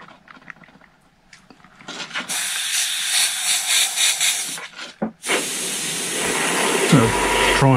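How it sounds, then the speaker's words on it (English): An airbrush sprays heavy metallic paint onto an RC car body, with sputtering bursts of close hiss that stop briefly around the midpoint and then return as a steadier, stronger spray. "It's having trouble spraying at the moment. Needs more pressure, or probably a different airbrush actually."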